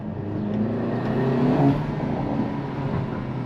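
Volkswagen T-Roc R, 300 hp, with a titanium exhaust line running steadily at a low, throaty rumble, a brief swell of revs midway, heard up close and alone.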